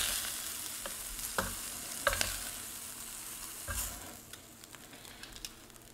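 Shrimp sizzle softly in a skillet, a steady quiet crackle of frying with occasional scrapes and clinks as they are moved and lifted out.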